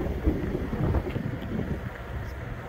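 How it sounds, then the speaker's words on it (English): Strong gusty wind buffets an outdoor microphone on a blustery day, a loud, continuous low rumble that swells and eases in uneven gusts throughout. "it is a very, very windy day out today"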